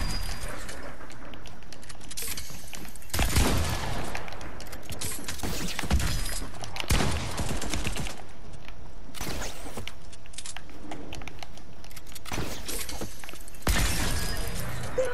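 Gunshots ring out in the video game Fortnite as several loud, sharp broadband bursts spaced across the stretch, set against a steady game background.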